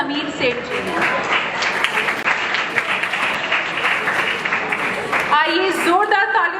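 An audience bursts into sustained applause, loud and dense, with a voice speaking at the start and again as the clapping continues.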